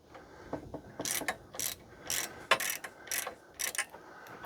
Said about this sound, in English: then I loosen up these U-bolts